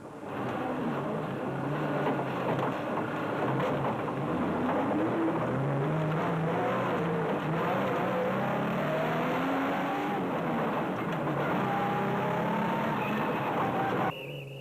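A Nissan Hardbody race truck engine roars steadily through a rally race, loud and sustained with rising and falling gear pitch as it pushes past slower traffic, no talk over it.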